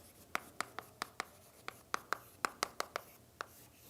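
Marker or chalk writing on a board during a doctoral lecture on partial differential equations, a string of crisp taps and short strokes in an irregular rhythm, close and quiet with no talk.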